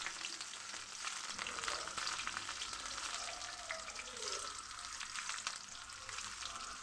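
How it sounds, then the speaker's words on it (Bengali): Chopped onion frying in hot mustard oil with cumin and garam masala for a desi chicken and potato curry, a soft continuous sizzle with light crackles and stirring, fairly quiet and without speech. "আর এখন আমি পেঁয়াজ কুচি দিয়ে দিচ্ছি।"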